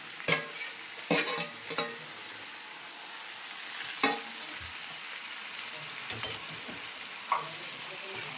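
Vegetables stirred and fried together in a village kitchen pan, a steady sizzle broken by several sharp scraping knocks of the spoon against the pan, close and moderately loud with no talking.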